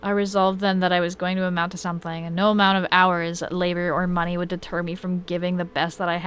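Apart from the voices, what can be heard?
None of the usual background noises is heard.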